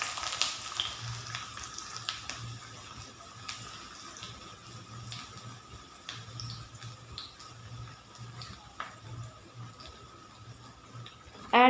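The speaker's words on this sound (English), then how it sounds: "Let's add chopped onion." Chopped onion fries in a pan with spluttered seasoning for a brown rice flakes dish. It gives a soft, continuous sizzle under a low steady hum, with occasional faint clicks.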